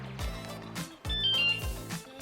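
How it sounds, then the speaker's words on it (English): Juiced HyperScorpion e-bike alarm arming with the remote lock button: two loud electronic beep tones in quick succession, close and clear with no talking. "that second beep is to just assure you that the bike is officially armed"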